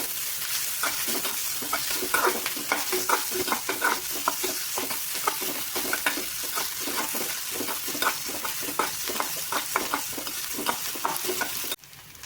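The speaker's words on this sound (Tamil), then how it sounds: "வெங்காயம் லைட்டா 1 நிமிஷம் இல்லை 2 நிமிஷம் அளவுக்கு வணக்க விடுங்க போதும்." Chopped onions sauté in a pan for a quick vegetable breakfast, giving a steady close sizzle with regular scraping strokes of a stirring spoon throughout and no voices.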